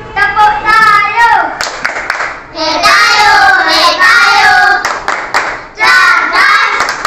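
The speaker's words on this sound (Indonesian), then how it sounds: "Tepuk Tayo." Children in a classroom do a rhythmic chant-and-clap routine named after a cartoon bus, crisp repeated hand claps in short bursts between loud young voices.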